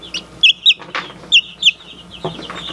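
Bantam chicks peeping close by: a few short, high, bright peeps in pairs with brief gaps, over a quiet background with light rustling.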